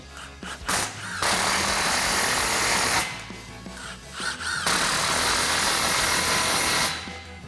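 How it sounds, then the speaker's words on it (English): Impact wrench with a 15mm socket tightening 3-inch muffler clamps on a Chevrolet Silverado 1500's MBRP dual exhaust, firing in three loud, rattling bursts separated by brief pauses, close up with no talk. "So we're going to grab our impact 15mm socket, tighten these down."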